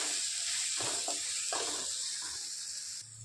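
Red chili powder, coriander powder and asafoetida sizzle steadily in hot oil as the spices are sautéed in a pan, a close, continuous hiss with a few soft stirring scrapes and no talking.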